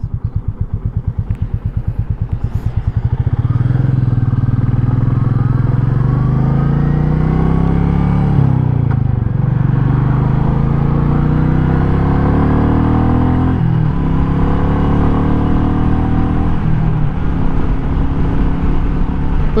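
Royal Enfield Meteor 350 motorcycle riding along, its single-cylinder engine rumbling loud and steady close by, settling into a continuous drone after a brief uneven start.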